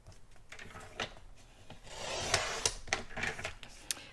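Cardstock being cut to size for a box of tags, giving soft rubbing, rasping strokes of paper under a blade, close and fairly quiet, several brief swipes building to a denser scraping passage near the end, with no voices.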